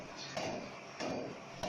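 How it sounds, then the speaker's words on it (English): Forging hammer blows strike a heated cylindrical metal billet on an anvil during upsetting, three sharp metallic impacts spaced roughly half a second apart, close and clear with no talk. "repeated vertical hammer blows are applied to compress the billet in height and expand its diameter"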